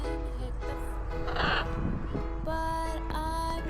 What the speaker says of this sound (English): This is the king of all parrots, the blue and gold macaw.